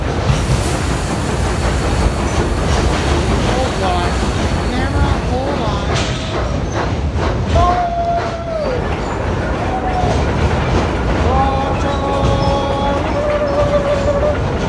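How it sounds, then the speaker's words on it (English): A Cumbres & Toltec Scenic Railroad train rumbles loudly and steadily into Rock Tunnel above the Los Pinos River, with metallic squeals and rattling, while people talk over the din. "The train plunges into Rock Tunnel"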